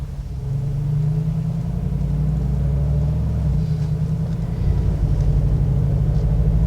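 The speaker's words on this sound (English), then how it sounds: "Mercedes never disappoints with their AMG V8" Deep, steady V8 rumble from a 2019 Mercedes-AMG G63 on the move, loud and continuous with a low droning note that shifts slightly as the engine works, no one speaking.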